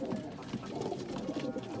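A pair of large Sialkoti-blood pigeons in a loft coo in a close, low, throbbing murmur that pulses steadily without pause.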